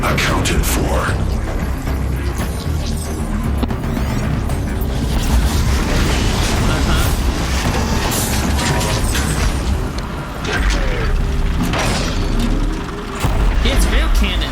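Cannon fire in Horizon Zero Dawn booms out in heavy, repeated blasts and crashes, layered over game effects and talk.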